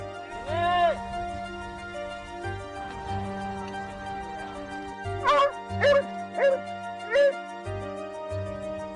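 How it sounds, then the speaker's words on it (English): Search and rescue trail dogs bark in a run of four or five sharp, close barks over a steady low background hum, with an earlier whine-like yelp near the start. "The field and trail dogs catch the scent and are able to narrow the search for the ground crew as they move in."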